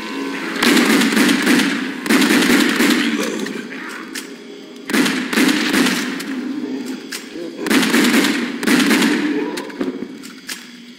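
Gunfire in the House of the Dead Overkill video game, loud rapid bursts of shooting in three long volleys separated by short pauses, dense and close.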